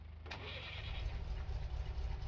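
A GAZ-66 truck engine in Farming Simulator 2019 cranks and catches, then settles into a low, rumbling idle that continues steadily, close and moderately loud, with no talk.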